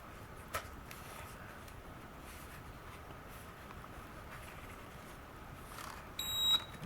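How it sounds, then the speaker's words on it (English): A quiet hiss fills the background until a single short, high-pitched electronic beep from a KAI ONE Pro drone sounds near the end during calibration. "just turn that around slowly till it beeps once more"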